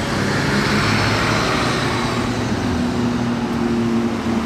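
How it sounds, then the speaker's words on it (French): A bus rumbles past on a Monaco street, a steady loud engine drone with a low hum rising slightly in pitch, blended into the surrounding roadway traffic. "il y a un bus qui va passer dans 2 secondes"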